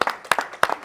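A few people clap for a challenge winner at a village contest whose prize is 5 kg of fragrant rice: three short, close bursts of claps in quick succession.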